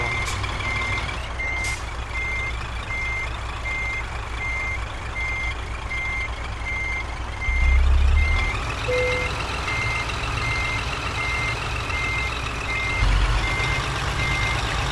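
In Euro Truck Simulator 2, a truck reversing sends out a steady, evenly spaced warning beep over a constant engine rumble, with a couple of heavier low thumps midway.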